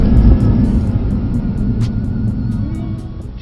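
A Mercedes-AMG car, a C63 S, E63 S or GT, braking hard on a race track, heard as a steady loud low engine and road rumble that eases off slightly, with no talk.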